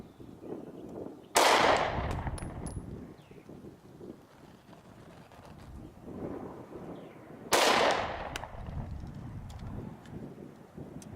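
Two sharp, loud pistol shots at an outdoor shooting range, about six seconds apart, each a sudden crack with a short decay over low wind noise.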